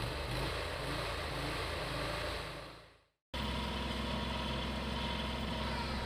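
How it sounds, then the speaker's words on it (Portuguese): A stump grinder's engine idles with a steady, close mechanical drone, briefly dropping out midway before resuming at the same level. "Com o motor em marcha lenta, desligue a roda de corte e aguarde a sua parada."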